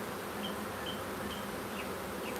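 Honeybees from a huge live swarm drone in a dense, continuous buzz close by, with individual bees whining past now and then over the steady hum.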